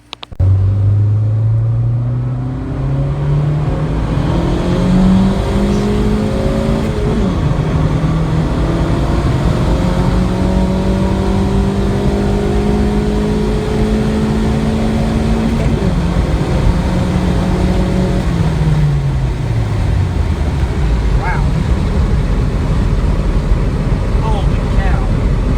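A turbocharged Honda D16Y7 engine revs on a dyno at 9 psi boost, climbing steadily in a long, loud pull before dropping off, with a constant droning roar and rumble throughout.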